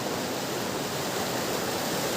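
Steady rushing of the Karbi Langpi river flowing past an open forest campsite at night, a dense, even wash of water noise with no breaks, close and constant throughout.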